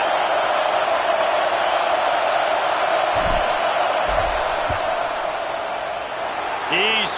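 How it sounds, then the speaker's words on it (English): Broad, sustained roar of a big stadium crowd in the NCAA 25 college football video game during a fourth-down field goal attempt, loud and steady throughout with a few thumps and brief bright accents near the end. "This crowd trying to do its part to get inside the kicker's head."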